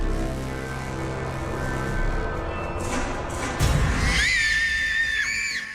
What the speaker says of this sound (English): By a blood-curdling scream,